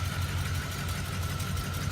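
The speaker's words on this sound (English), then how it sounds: "a 268 inline 6, the engine you see here" A 1971 Oldsmobile Cutlass S with a 268 inline six idles with a steady, low, close rumble, continuous and even, with no voices.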